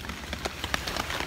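Rain falls steadily on a camping hammock shelter in cold weather, a dense close patter with scattered louder drops striking the surface.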